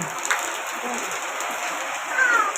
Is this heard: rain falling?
yes